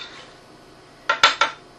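A utensil stirs rice and water in a pot, giving three quick metallic clinks against the pot's side in close succession after a quiet moment, loud and near.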